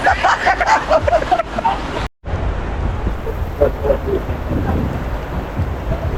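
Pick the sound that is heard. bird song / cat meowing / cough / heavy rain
heavy rain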